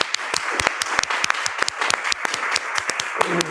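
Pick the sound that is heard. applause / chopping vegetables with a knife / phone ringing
applause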